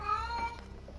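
A house cat lets out a short meow, clear and close, above low background noise.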